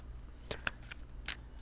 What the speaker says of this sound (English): Okay, I'm shuffling for one more minute.